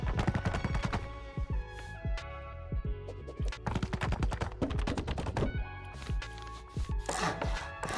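Building pieces upgrading to stone in the survival game Rust, a dense cluster of loud hammering, crunching and crumbling impacts layered with bright metallic ringing, repeating in bursts close up with no voice.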